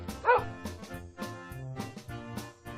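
Cartoon dog Beni barks in a series of short, bright yips over a light musical background, fairly close and moderately loud.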